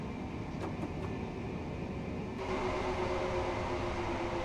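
A Caltrain passenger train in the game Train Sim World gives a steady low rumble that grows slightly heavier partway through, with no voices.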